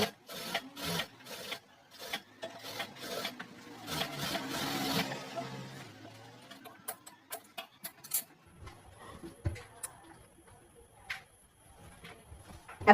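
Sewing machine running a topstitch across fabric while a garment neckline is made: a rapid, rattling mechanical run for about five seconds, then scattered clicks and handling noises at close range.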